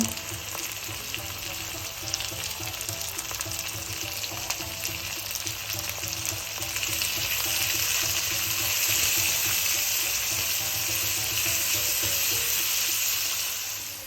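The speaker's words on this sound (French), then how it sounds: "Je vais bien faire revenir. J'ajoute le poivron rouge." Crickets stir-fried with red bell pepper and onions in a hot pan, a steady loud sizzle with scraping stir strokes, growing fuller and denser partway through; no voices.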